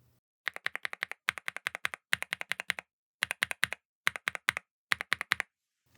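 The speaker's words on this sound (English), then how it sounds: "here's a quick side-by-side of a single switch sound for the mint, raspberry, and lemon" Clacky NuPhy mechanical keyboard switches (mint, raspberry and lemon) pressed in quick bursts of several keystrokes, separated by short pauses, crisp and close with no talking.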